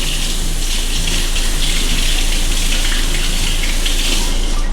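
A kitchen tap runs hard while fresh thyme is rinsed under it, a loud, close, unbroken gush of water that fills the whole stretch.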